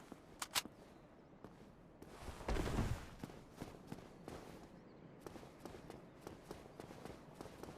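SMG fire in the Dark Souls Remastest mod for the video game: quiet, snappy shots in short irregular volleys, with one denser rumbling burst midway and scattered single pops after it.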